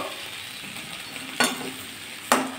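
Okra and potato curry stirred in a pan, a soft continuous sizzle under two sharp scraping strokes of a spatula against the pan, with no voices.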